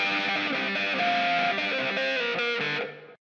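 Distorted electric guitar with the bass rolled off and some top boost plays a chunky riff of short, bright, sustained notes for about three seconds, then fades out.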